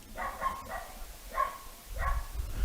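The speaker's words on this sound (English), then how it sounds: "Got a loud dog barking somewhere nearby" A loud dog barks nearby at an outdoor baseball game, three separate barks spaced about a second apart, with low background rumble and crowd noise rising toward the end.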